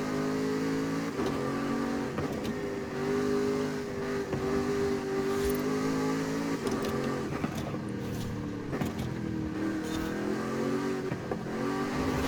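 A car's engine in Forza Horizon 5 revs loud and steady, its pitch climbing and then dropping sharply at each gear change in a repeating sweep, with no talk over it.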